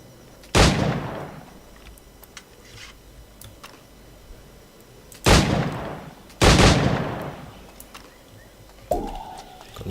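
Gunshots are fired at targets in the video game Assassin's Creed IV. Three loud, sharp cracks ring out, the last two close together, each followed by a short decay over a quiet game ambience, and a fainter metallic clack comes near the end.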